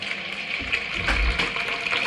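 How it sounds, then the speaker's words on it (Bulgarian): Water running from a tap into a large green bowl in a sink, a loud steady gushing that deepens briefly as the bowl fills, heard close with no speech. "Това сега да я напълня малко за вода."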